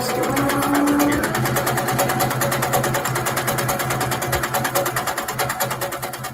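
A sewing machine free-motion stitches a feather quilting design, whirring continuously and loud up close with a fast, even needle rhythm throughout.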